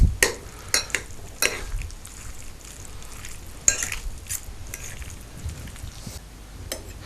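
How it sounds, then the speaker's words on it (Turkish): A sauce stirred into a dish for Circassian chicken: close, repeated wet stirring and scraping with sharp clicks of a utensil against the bowl, moderately loud over a low background, no speech. "Yapmış olduğum sosun bir miktarını içerisine döküyorum. Ve karıştırıyorum."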